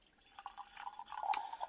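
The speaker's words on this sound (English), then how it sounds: "Let's pour it into this glass." Oliver's Traditional Dry cider poured into a glass, soft trickling and dripping with faint gurgles and a light glassy ring, quiet and close.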